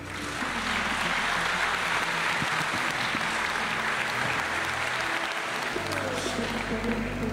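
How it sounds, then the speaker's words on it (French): Audience at the Aito Tu'aro 2023 award ceremony applauding, a full sustained wave of clapping filling the room, with faint crowd murmur beneath. "Maëlle Tresinski, sous vos applaudissements"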